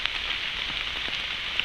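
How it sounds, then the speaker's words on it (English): Heavy rain falls steadily on a sheltered campfire site, a dense even patter with occasional louder drops close by, no talk. "And as you can hear, it's raining right now. It's raining pretty hard, actually."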